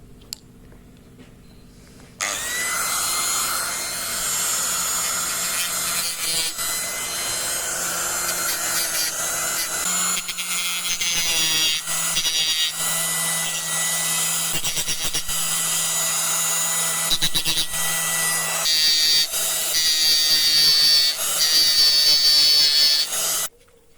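A power polisher with resin diamond pads whines steadily and loudly, grinding against a granite headstone with shifting pitch as it works, starting after a short quiet moment.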